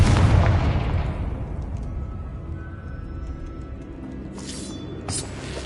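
A Confringo fire spell bursting in the game Hogwarts Legacy, a heavy booming explosion that opens loud and decays into a long rumbling tail, followed by a couple of sharp crackling pops near the end.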